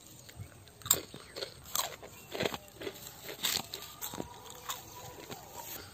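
Homemade Kurkure, crunchy fried snacks, bitten and chewed close up, giving a steady run of crisp crunches and cracks over about six seconds with no talking.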